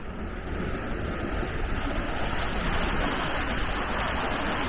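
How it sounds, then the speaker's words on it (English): Water rushes steadily through an open canal lock paddle, filling the pound between the Watford staircase locks on a narrowboat passage, a continuous loud turbulent roar with no talk. "So the water is rushing through quite quickly."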